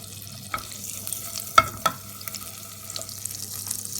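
Vermicelli tossed into melted butter in a hot pan, a soft steady sizzle broken by a few sharp spoon clicks and scrapes against the pan while stirring, with no voices.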